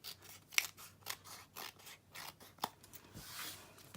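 Scissors snip through designer paper, trimming off an overhanging edge after it has been pressed down for a pocket tag book; a few crisp, quiet cuts sound close up, one after another, with no talk over them.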